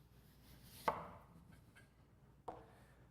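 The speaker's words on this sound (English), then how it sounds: "After the sample has been extruded, split the sample with your knife" Knife splitting an extruded compacted soil specimen, two sharp quiet chopping cuts about a second and a half apart in a hushed room.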